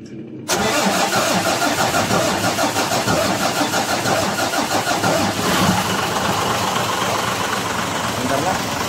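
A diesel engine on a 6M70 with an injector problem and hard starting catches abruptly and runs on at a loud, rough, steady clatter nearby, with voices partly heard under it.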